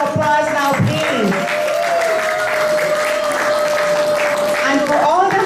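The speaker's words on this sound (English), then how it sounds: "Give yourself a round of applause now, please." Audience applause at a UN high-level side event, sustained clapping throughout with a voice speaking and some whoops over it.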